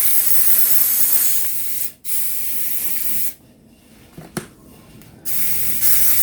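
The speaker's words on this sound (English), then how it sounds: "So spray your 9x13" Cooking spray hisses into a 9x13 baking pan in a home kitchen in several close, loud bursts: a long spray, a brief break, another long burst, a quieter gap, then more short sprays.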